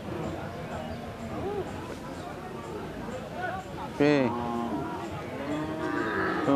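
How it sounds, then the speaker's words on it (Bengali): A red Sahiwal-Sindhi calf moos at a cattle market in Mirganj, Nilphamari, with one loud drawn-out call rising over people talking and the background bustle of the crowd. "সুন্দর লাল শাহিওয়াল সিন্ধি জাতের বাছুর"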